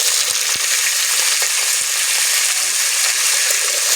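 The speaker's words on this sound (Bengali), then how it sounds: "আলুটাকে ভেজে নেব" Washed cut potatoes fry loudly in oil tempered with black cumin, a dense, unbroken hiss and crackle close to the pan with faint stirring bumps.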